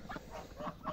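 Sebastopol geese with frizzled feathers honk in a short run of three or four nasal calls, moderately near against faint background noise.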